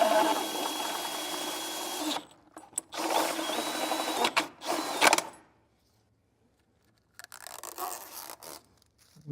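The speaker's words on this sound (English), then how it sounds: "And center our 2-inch hole saw" A 2-inch hole saw cuts a speaker hole for a Wet Sounds audio kit on a Harley-Davidson Road Glide or Street Glide, giving loud, close grinding bursts that start and stop over several seconds, then a pause and a shorter final burst.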